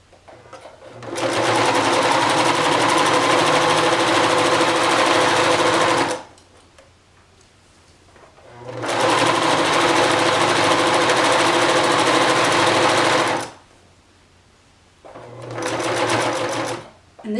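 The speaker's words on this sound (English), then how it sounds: "this sewing machine does go over the pins really well" A domestic sewing machine runs in three long bursts as it stitches over pins, loud and close with a steady mechanical whir, and brief pauses between runs where someone speaks.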